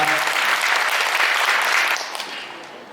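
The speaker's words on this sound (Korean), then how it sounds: "우리 좋은 말씀 전해주신 친구분께 다시 한번 큰 박수 부탁드리겠습니다" Wedding guests clap in a dense, lively burst at the ceremony, the applause holding strong and then thinning out toward the end.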